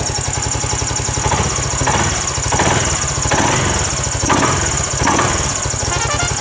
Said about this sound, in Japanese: アイドリングが安定しております